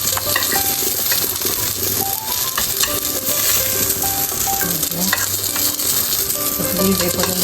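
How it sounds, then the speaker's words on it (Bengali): Fish pieces fry in oil in a home kitchen pan, giving a loud, constant sizzle with bubbling crackle throughout, and a few faint clinks of a utensil against the pan. "এই যে আমার মাছ ভাজি সুন্দর করে ভেজে নিলাম"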